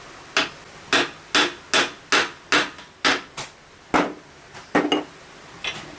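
Steady hammer blows strike a wood block laid over a bearing, driving it onto a Toyota power steering pump: about a dozen sharp, fairly even knocks, close and loud, with no voices.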